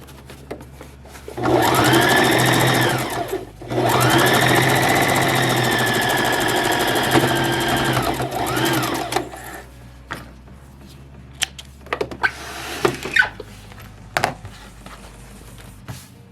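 A sewing machine stitches a fabric clutch wallet in two loud, steady runs separated by a short pause, followed by quieter handling clicks and thread trimming.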